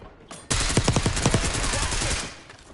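Gunfire in Call of Duty Black Ops 6: after a faint lead-in, a loud sustained automatic burst of rapid, dense shots lasts about two seconds, then fades out, with no voices over it.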